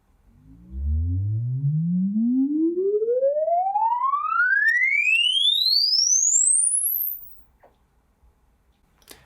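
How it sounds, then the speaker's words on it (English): A loud, clean sine wave sweep glides steadily upward from a deep hum to a piercing high pitch over several seconds, then stops, leaving a few faint clicks. "A 10-second sweep is a good starting point for the sine wave sweep"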